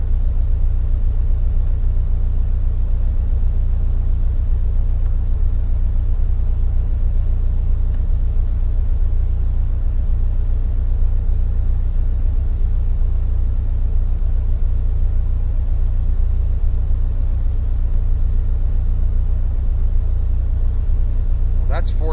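2005 Subaru STi with a BW-S300 turbo on flex fuel, engine held at a loud, steady low rumbling drone, close up, with an electric fuel pump whining faintly above it.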